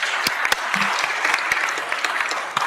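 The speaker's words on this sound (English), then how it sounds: "Another round of applause for our honorees." Applause for honorees at a Los Angeles Board of Public Works meeting: a short, steady patter of clapping from a modest crowd, with a few sharper individual claps standing out.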